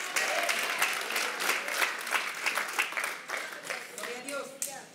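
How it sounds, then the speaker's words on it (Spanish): Children in a church congregation clap together in a dense, lively burst that carries on steadily throughout, with scattered voices mixed into the applause. "Aplaudieron los hijos, no los papás."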